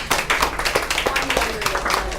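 Audience applause breaks out after a round of thanks at a medical talk, with scattered claps building into a steady patter under a busy room tone.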